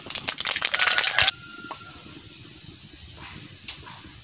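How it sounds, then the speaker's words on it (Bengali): Mustard seeds hit hot oil with a loud burst of crackling sizzle that cuts off abruptly after about a second, leaving a faint hiss and a couple of small pops. "গরম হয়ে গেছে, আমি সর্ষে দিয়ে দিচ্ছি।"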